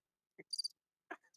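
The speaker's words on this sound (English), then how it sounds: "It was crickets, man." Sparse cricket chirps sound in a quiet background as a few short, thin trills with gaps of silence between them and no talking.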